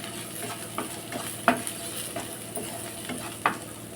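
Turmeric powder gets stirred into golden-brown ingredients frying in a pan during a village-style stuffed bitter gourd recipe. A steady, soft sizzle runs underneath, broken by occasional spoon scrapes and clinks against the pan.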